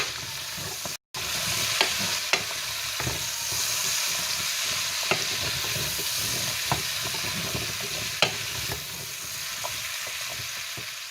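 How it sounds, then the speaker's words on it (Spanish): Vegetables sauté in hot oil for braised beef cheeks in wine sauce, giving a steady soft sizzle. Occasional light utensil clicks come through as they are stirred, and a brief dropout breaks the sound near the start. "Rehogamos hasta que las verduras se reduzcan y estén blanditas"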